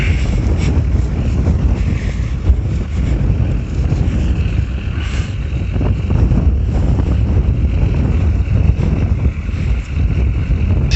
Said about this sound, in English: Sorry about the wind if that's bothering.